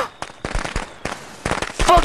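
Firecrackers go off in the video game Friday the 13th: The Game, a string of sharp crackling pops in quick bursts, loud and close, with game voice audio mixed in.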